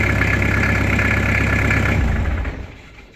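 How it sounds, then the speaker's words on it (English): A car engine fresh with new oil idles smoothly with a steady low rumble close by, then cuts off and fades to quiet in the last second. "I love the sound of new oil on the engine."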